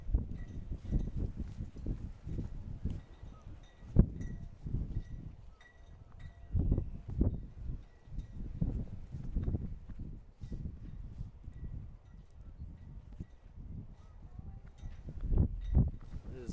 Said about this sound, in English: Very windy day, folks. That noise is the wind.